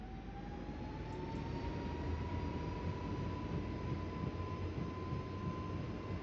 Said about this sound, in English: 17 left, cleared for takeoff